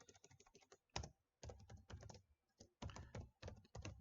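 Rapid bursts of keystrokes on a computer keyboard as code is typed, clustered clicks separated by short pauses, close and clear with no talking.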